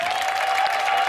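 Brief burst of applause and acclaim from a church congregation, a dense wash of clapping with crowd voices mixed in under a sustained tone.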